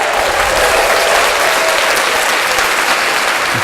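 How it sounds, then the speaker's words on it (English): Loud, steady applause sound effect played from a Tascam MiniStudio Creator, dense clapping that fills the whole stretch without a break. "now the applause"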